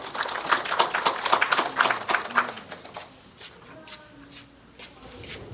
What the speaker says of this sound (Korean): 예, 박수 부탁합니다.